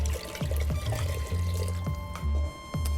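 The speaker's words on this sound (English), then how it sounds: "now I'm gonna add my stock" Stock poured into a pressure cooker of corn risotto, a close, glugging pour in several short bursts with brief pauses between them.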